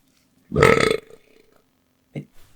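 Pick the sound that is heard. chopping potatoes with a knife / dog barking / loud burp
loud burp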